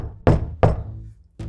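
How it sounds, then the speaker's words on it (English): Knocking on a door comes as three separate sharp thumps, two in quick succession and a third after a longer pause, each loud and close with a short ringing decay. "I'm just gonna knock."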